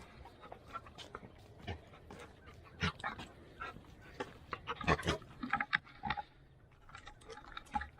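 A dog, a retriever, panting and snuffling nearby in a garage during a 1977 Trans Am LS3 engine swap, with irregular breathy bursts and a few sharper yips or whimpers scattered throughout.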